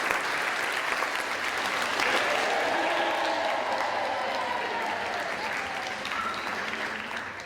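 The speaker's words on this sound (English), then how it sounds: "Round of applause for the teachers." Steady, loud applause from a crowd, sustained throughout with a few faint cheers mixed in, tapering slightly at the end.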